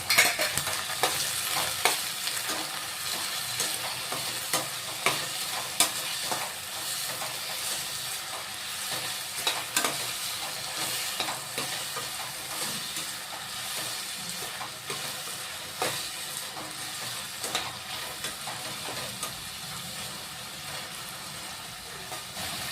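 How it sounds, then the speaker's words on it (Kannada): Chopped carrots, beans and potatoes stir-frying in a little oil, a dense continuous sizzle with frequent scraping and clattering strokes of a spoon against the pan, close up and without talk. "ಕ್ಯಾರೆಟು, ಬೀನ್ಸು, ಆಲೂಗಡ್ಡೆ 3 ಹೆಚ್ಚಿಟ್ಕೊಂಡಿದ್ದೀನಿ. ಹಾಕೊಳ್ಳೋಣ. ಅದನ್ನು ಸ್ವಲ್ಪ ಆಯಿಲಲ್ಲಿ ಫ್ರೈ ಮಾಡ್ಕೊಳ್ಳೋಣ ಇದನ್ನು"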